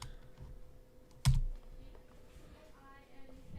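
A computer keyboard being typed on, a few soft key clicks with one sharp louder tap near the start of the second second, faint and close, with quiet room noise and a low background hum.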